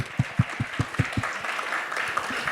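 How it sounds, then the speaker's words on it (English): Audience applause at a financial wellbeing event in Goa, a few loud close claps at first, then a softer wash of clapping from the room that keeps going steadily. "please put your hands together because Mr. Jetley has said there is no GST on applause"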